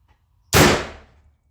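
A single Sharps elephant gun rifle shot fired at a target, one loud close boom that cracks sharply then rolls away into a fading tail within about half a second.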